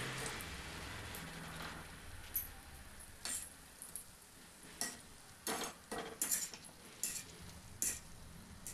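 Bhaji fritters deep-fry in hot oil over medium heat, a steady faint sizzle and bubbling crackle, punctuated by louder scraping and stirring clatters from a utensil toward the end, with no talking.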